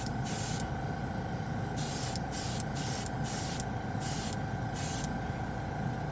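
A spray can lays a coat of light gray Jumpwind metal paint in a run of short hissing bursts with brief pauses between, close and steady over a constant background hum.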